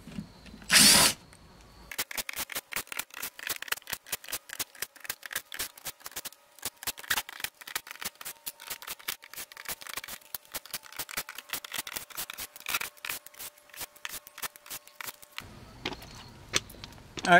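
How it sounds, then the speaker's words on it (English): Magnetic-bit power driver backing screws out of a mobile home window frame: a loud burst of whirring at first, then a long run of rapid ratcheting clicks from the clutch, close-up and continuous, trailing off near the end. "go around the perimeter of the actual window here with the driver and remove all these screws."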